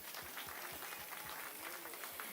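An audience at a public gathering in Mombasa, Kenya claps together in a steady, fairly faint wash of applause that lasts the whole stretch.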